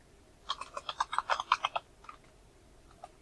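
A quick burst of about a dozen crisp computer keyboard keystrokes, close and fairly quiet, then a short pause and one last tap.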